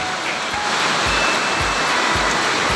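Heavy rain pours steadily on a farm treehouse shelter, a dense, loud, continuous wash with low rumbling pulses every second or so, and no voices.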